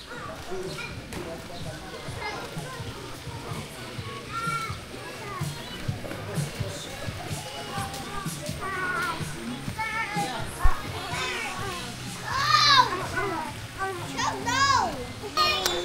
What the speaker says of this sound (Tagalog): Eto, dito yung naliligo yung mga bata.